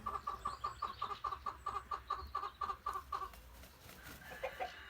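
Minorca and white-faced Spanish laying hens clucking in a steady, evenly spaced run of short calls for about three seconds, then quieter scattered clucks near the end over faint farmyard background.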